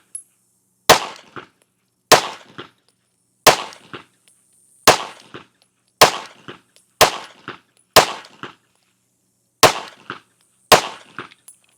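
A Taurus pistol fired ten times at a 5-yard range with iron sights, sharp loud reports spaced about a second apart, each with a brief ringing echo, alone without talk.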